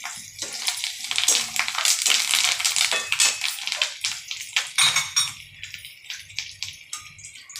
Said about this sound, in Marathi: त्याच्यामध्ये मी आता जिरे मोहरी टाकत आहे.